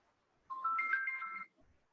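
A mobile phone ringtone goes off during a lecture on manufacturing practice for Ayurvedic, Siddha and Unani drugs: a single bright, melodic electronic chime lasting about a second, clear and alone.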